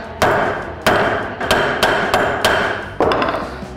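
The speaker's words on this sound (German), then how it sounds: "Das mache ich einfach mit dem Hammer." Six heavy hammer blows flattening a metal tube cold, spaced roughly half a second apart, each a sharp clang with a short ringing decay.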